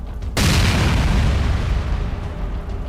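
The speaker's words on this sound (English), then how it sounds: "but a far more powerful detonation." A powerful detonation destroys a Russian tank: one sudden loud blast hits after a brief quiet moment, then a broad rumbling roar slowly fades.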